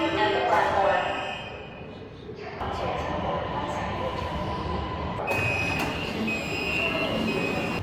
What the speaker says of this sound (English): Only the sound of the train moving through the tunnel stayed with me.